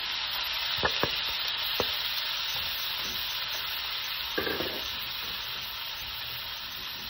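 Cherry tomatoes sizzle and fry in melted butter in a pan with garlic and onion, a steady soft hiss broken by a few light clinks and stirring taps, no talking.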